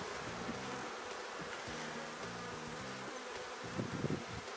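A swarm of honey bees hums steadily in a dense, continuous drone, soft and fairly distant, with faint rustling and no voices.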